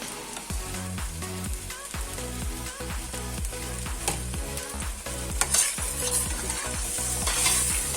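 Ginger garlic paste sizzles and fries in a pan while a spoon stirs and scrapes repeatedly in a steady rhythm, close and fairly loud.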